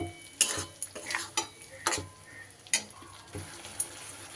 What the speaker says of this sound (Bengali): এটা দিয়েও একটু ভালো করে কষিয়ে নিতে হবে